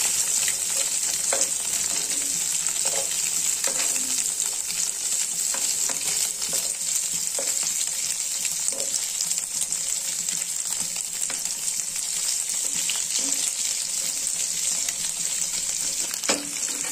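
Egg paneer with cinnamon fries in a pan with a constant, fairly loud sizzle, broken by intermittent scraping stirs, and no voices.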